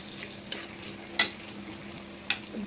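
Chopped tomatoes frying in a pan for chicken keema, a low steady sizzle broken by a few sharp spatula scrapes and taps against the pan, no talking.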